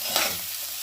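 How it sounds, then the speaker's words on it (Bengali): Spiced Katla fish head mixture for muri ghonto being sautéed in a pan, a brief sizzling hiss with a soft scrape of stirring, moderately loud and close with no talk. "এবারে আমি কষতে থাকবো।"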